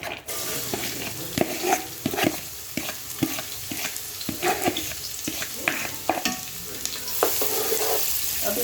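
Chopped onions being lightly sautéed in a pan for a chicken ginger dish, a constant sizzle broken by repeated scraping stirs of a utensil at an uneven rhythm, close and fairly loud.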